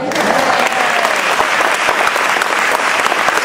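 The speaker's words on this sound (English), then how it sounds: "Let's give them a round of applause." A crowd applauds steadily, dense clapping from many hands sustained at full volume for the whole stretch.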